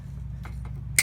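A plastic zip tie is snipped off during installation of an Auxbeam 4-inch LED light bar behind a Chevrolet Silverado grille: one sharp, close snip near the end, after a couple of faint clicks, over a steady low hum.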